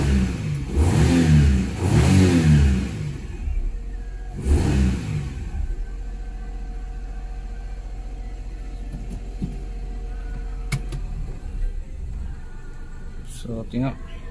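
Perodua Viva car engine with a strong shaking fault and unstable idle revs is heard running steadily close by, with a couple of brief rev surges early on and a low, even idle after them.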